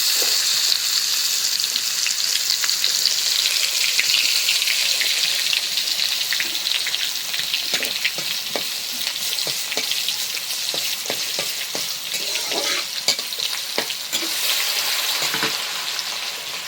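Dried chillies and garlic fry in a hot pan with a steady, close sizzle, and scattered crackles and stirring clicks sit on top. No one speaks.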